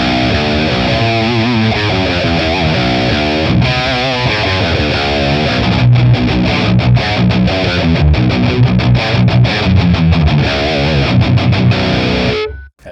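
A high-gain, heavily distorted electric guitar, a Les Paul played through a Tonex amp capture, chugs loud and close in a dense, saturated riff with rhythmic palm-muted stops, then cuts off at the end.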